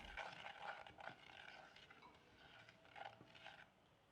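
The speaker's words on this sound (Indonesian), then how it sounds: "Kemudian ini kita aduk dulu supaya jelinya tidak menggumpal." A spoon scrapes and clinks in a pot while Nutrijel gelatin powder and sugar are stirred together, an irregular run of quiet metallic taps and scrapes at close range.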